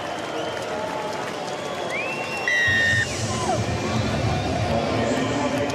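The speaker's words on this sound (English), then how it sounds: "Some good hearty New Zealand supporters cheering on their team after some hearty defence" New Zealand supporters cheer at a rugby sevens match in Sydney, steady crowd noise swelling briefly with a burst of whoops and shouts over the distant hum of the stadium.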